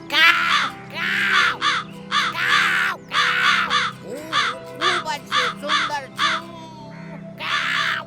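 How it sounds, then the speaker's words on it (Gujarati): A cartoon crow in a children's fable caws loudly and repeatedly, harsh rasping calls in quick clustered bursts with short gaps, close and prominent over a quiet backing. "કાગડો પોતાના પગેથી રોટલીને દબાવીને બેસુરી અવાજમાં ગાયન ગાવા લાગ્યો"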